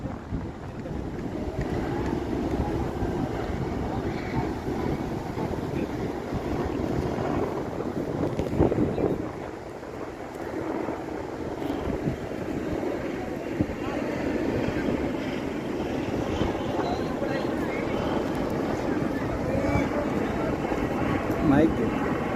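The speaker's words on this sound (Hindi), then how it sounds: "अभी हेलीकॉप्टर जो है तो उड़ने की तैयारी कर रहा है" A helicopter readies for takeoff, its engine and rotor making a steady, broad drone throughout, with a crowd murmuring underneath.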